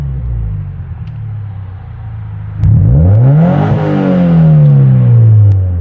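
A Subaru BRZ fitted with a custom equal-length header revs up, a loud close engine that idles with a low rumble, then climbs in a sweeping rise and falls back.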